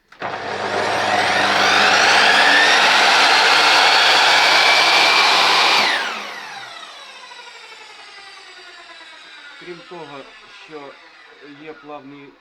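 An Einhell TC-MS 3017 T mitre saw with a 305 mm blade spins up with a soft start and whines loudly for several seconds, then winds down while someone talks nearby.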